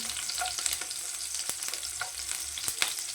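Crushed garlic fries in oil for sambar, making a steady close sizzle with repeated scraping stir strokes and small crackles.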